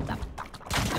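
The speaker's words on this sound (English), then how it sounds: "I shot my wingman." Gunshot in the game Valorant: a few sharp shots close together within about a second, heard amid game sounds.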